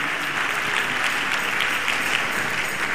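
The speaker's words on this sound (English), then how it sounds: "Please let's clap our hands for our discussant, Professor Dele Balogun." A crowd at a birthday public lecture applauds a discussant, professor Dele Balogun, with a sustained, loud, dense roll of hand claps from a large audience, continuous throughout.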